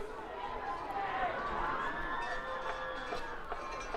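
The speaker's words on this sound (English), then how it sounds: "This crowd is still making noise" Crowd at a high school football game between the San Angelo Central Bobcats and Odessa Bronchos keeps up a steady, distant roar of cheering and shouting, with scattered voices and whistles rising and falling throughout.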